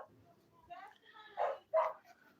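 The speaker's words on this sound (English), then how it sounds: "you're hearing my brother-in-law's dog in the background" A dog barks in the background inside a house, a couple of short, muffled barks and yips at moderate distance, with a voice talking nearby.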